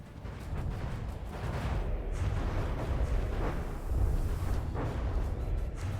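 Cannon fire from warships in the video game From the Depths: a dense, continuous barrage of booming shots rolling one into another, with a few louder blasts rising from a heavy rumbling background.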